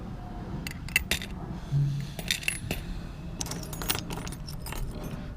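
Metal keys jangle and clink as they are sorted outdoors in the sunshine, with irregular bursts of bright rattling and a faint road hum behind.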